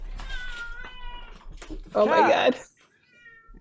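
A panicked house cat with its claw stuck meows loudly in distress, a strained wail following a person's startled exclamation, close and alone at its peak.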